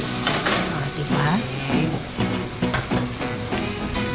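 Eggs fry in a pan, two per serving, cooked by a resort hotel cook. A loud, steady sizzle runs throughout, with faint voices underneath.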